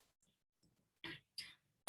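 A couple of short, dry coughs from one woman close by, followed by a louder burst at the end, with quiet in between.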